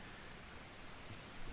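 Steady rain falling in the video game The Division 2, a continuous, even hiss of drops while the character shelters under solid cover.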